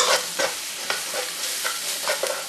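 Quorn jalfrezi stir-fried Indian style in a wok: a steady close sizzle broken by quick scraping stir strokes every half second or so, with no voices.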